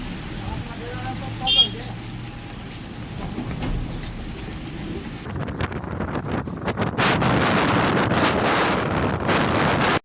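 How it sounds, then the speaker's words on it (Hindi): Strong gusting wind in a swirling dust storm roars and buffets the microphone without a break, a steady rushing noise that thickens and grows harsher and louder partway through. "धूल के चक्रवात के साथ तेज हवाएं लोगों की मुसीबत का सबब बनी"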